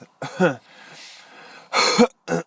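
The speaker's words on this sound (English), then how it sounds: "I'm just doing a little bit more coughing and stuff." A few harsh, throaty coughs in short bursts, separated by a breathy pause, close to the listener.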